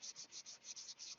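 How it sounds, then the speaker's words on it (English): Rhythmic hand sanding across a surface freshly coated with DC 540 paint on a workbench, roughly eight quick back-and-forth strokes of steady, close, hissy scraping with no talk. "You saw that I just painted this right here with the DC 540, and we're sanding it."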